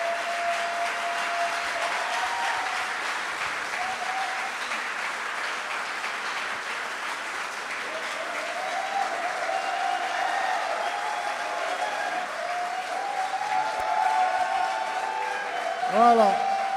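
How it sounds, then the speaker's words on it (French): Sustained audience applause for a school team captain at a French televised quiz final, a steady broad wash of clapping with cheers and voices mixed in, swelling slightly near the end. "Alors, sous vos applaudissements, s'il vous plaît, nous accueillons"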